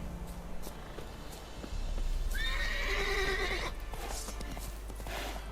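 In The Witcher 3: Wild Hunt, a horse lets out a loud, drawn-out whinny amid clip-clopping hooves and game ambience, fairly close and clear.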